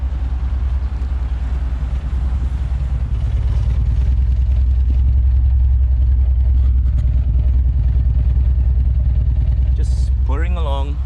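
A 1979 Alfa Romeo Alfetta 2.0 runs steadily while driving, a continuous low engine drone heard from inside the car with a short chirping sound at the very end.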